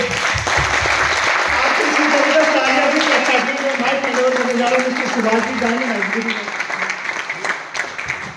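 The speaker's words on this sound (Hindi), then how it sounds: "तो मैं चाहता हूँ एक बार जबरदस्त तालियां के" A meeting audience breaks into vigorous applause, dense clapping running throughout while voices call out and chatter beneath it, then thinning toward the end.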